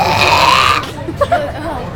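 A loud, drawn-out burp during a burping contest rings out close to the microphone, then fades into casual voices talking.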